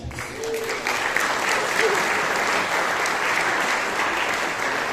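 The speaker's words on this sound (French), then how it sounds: "je vous demande d'applaudir très très fort s'il vous plaît" A crowd at a film festival closing ceremony breaks into sustained clapping that swells quickly and holds strong, with a voice briefly heard at the start.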